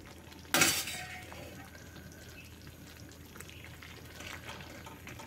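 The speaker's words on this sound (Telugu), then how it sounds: "కలిపి మంచిగా మిక్స్ చేసుకోవాలి." A spoon stirs fried fenugreek leaves into a thick simmering garlic curry gravy in a pan, beginning with a loud clatter and then turning to soft, wet mixing and scraping sounds.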